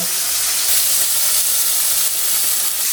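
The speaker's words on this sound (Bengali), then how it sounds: "ভেলে মাছগুলো ভেজে নেব" Bele fish frying in a pan of hot oil, a steady, close, even sizzle and hiss that holds throughout with no talk over it.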